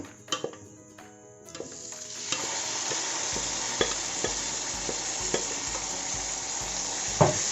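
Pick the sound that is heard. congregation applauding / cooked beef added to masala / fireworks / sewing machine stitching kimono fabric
cooked beef added to masala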